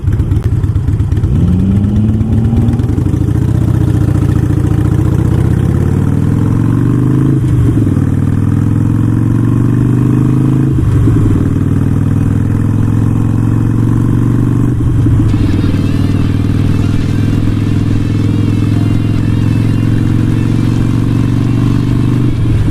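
Harley-Davidson Iron 883 motorcycle engine rumbling steadily while riding, a loud low drone with a few gear shifts marked by brief dips and rises in pitch, continuous throughout with no talk.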